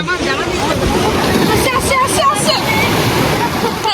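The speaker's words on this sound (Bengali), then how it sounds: "এই ঢেউটা বাজে ছিল বুঝো" Sea waves break and wash on the beach at Mandarmani, making a loud, continuous roar of surf mixed with wind buffeting the microphone, while people talk close by.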